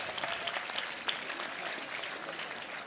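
Crowd applause at a pickleball match during a US Open championship, steady clapping from many hands sustained throughout at moderate level, with a few sharper claps standing out.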